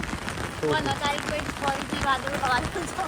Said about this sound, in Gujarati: જે વરસાદ પડી જાય છે